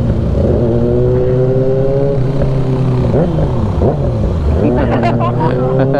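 A tricycle engine revs in a loud, close, rumbling drone with kids riding aboard, pitch rising and dipping through several throttle bursts while voices chatter over it.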